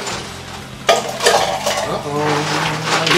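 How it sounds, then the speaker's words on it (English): Ice cubes clink and rattle into a glass with a sudden bright onset, then keep tinkling in a brief cluster of close, fairly loud knocks against a soft room background, poured during a soda taste test. "I hear ice coming."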